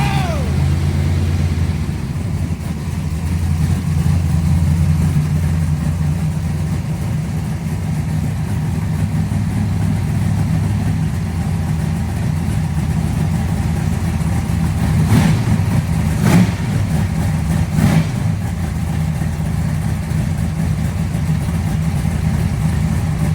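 A car rumbles at idle ahead of bracket racing, its low engine drone steady and loud throughout, with a few brief revs near the end and voices faintly underneath.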